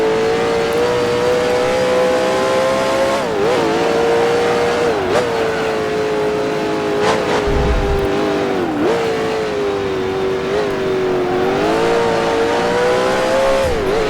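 Engine of a 1966 Can-Am race car in the Grand Prix Legends video game at Bridgehampton, loud and continuous, rising through the gears with brief dips as it shifts and revs climbing a hill.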